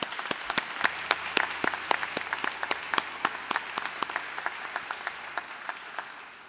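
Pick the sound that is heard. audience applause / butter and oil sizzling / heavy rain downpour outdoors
audience applause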